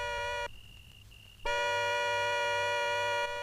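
A car horn blares in a long steady tone, cuts out for about a second, then sounds again and holds for nearly two seconds more.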